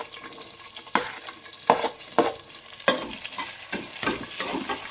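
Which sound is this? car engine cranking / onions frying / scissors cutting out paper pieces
onions frying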